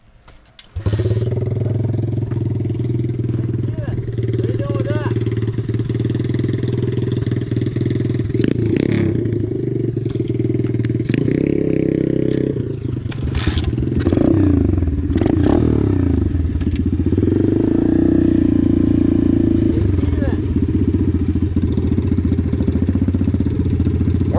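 A Chinese Apollo DBX15 pit bike ridden outdoors, its small engine droning loud and close with rising and falling revs, rattling clatter and brief throttle changes throughout.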